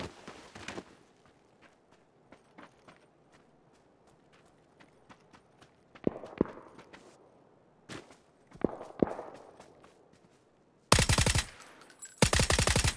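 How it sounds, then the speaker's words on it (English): Suppressed VSS rifle shots in PUBG ring out as sparse single cracks and short bursts amid quiet footsteps, ending with a loud, dense rapid burst near the end. "I'm shooting here without hitting"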